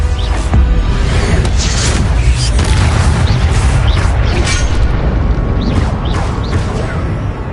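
Spell combat in Hogwarts Legacy, including an Expelliarmus disarming spell, comes through as a dense, continuous roar of booming magical blasts and crackling impacts, loud and unbroken throughout.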